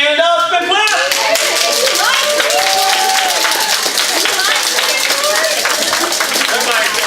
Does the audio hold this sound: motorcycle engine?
no